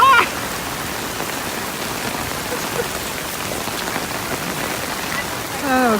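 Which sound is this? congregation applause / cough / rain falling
rain falling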